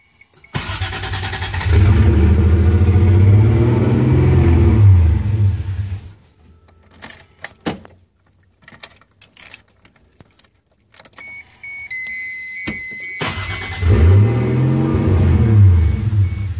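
A car engine cranks and catches, runs loudly, then cuts out amid rattling and clicks before starting again and revving up.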